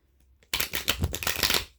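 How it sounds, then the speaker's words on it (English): A deck of tarot cards is shuffled close up: after a brief silence, a rapid burst of riffling, flapping card noise lasts just over a second. "We're going to shuffle the deck again."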